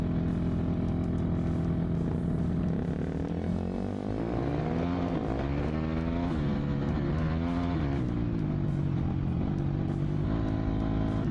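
Dirt bike engine revving and shifting pitch while riding, a continuous loud droning with rising and falling tones throughout, with no talking.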